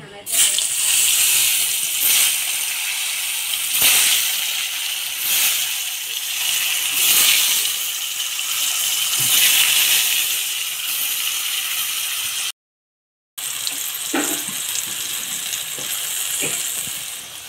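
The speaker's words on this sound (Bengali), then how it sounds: "এখন আমি এটা লাল লাল করে ভেজে নিব।" Catla fish pieces rubbed with salt and turmeric fry in hot oil, giving a steady, fairly loud broadband sizzle that runs almost without a break, with occasional sharper spits and crackles.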